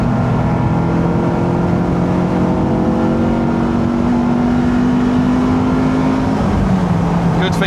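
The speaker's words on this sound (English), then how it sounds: "if I do a full throttle run from here, you'll hear VTEC come on early" A Honda S2000 engine pulls hard at full throttle, its steady rising drone sweeping upward as VTEC engages, then dropping on the shift. The drone is loud and close, with continuous road and wind roar underneath.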